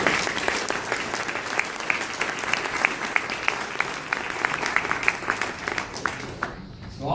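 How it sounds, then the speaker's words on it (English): An audience at a talk claps in a round of applause, a dense patter of many hands, moderately loud and even, fading out near the end. "I want to give a round of applause to Andy for giving me that opportunity"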